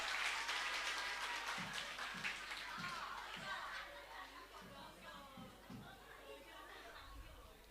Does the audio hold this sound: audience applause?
yes